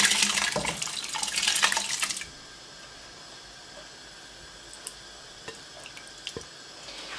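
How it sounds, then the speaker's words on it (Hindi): Boiled moong lentils and their leftover cooking water are poured into a pot in a loud, close splashing pour lasting about two seconds, followed by quiet with a few faint clinks. "अब इसमें दाल डाल देते हैं और साथ ही वही पानी जो बच गया था।"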